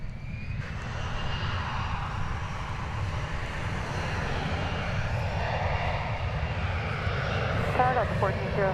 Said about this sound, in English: It's a 737-800 going to Oklahoma City.